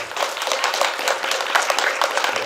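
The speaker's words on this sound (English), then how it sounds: "I guess we should clap for each person." Applause from an audience at a board meeting, a steady dense patter of many hands sustained evenly throughout, moderately loud and without pauses.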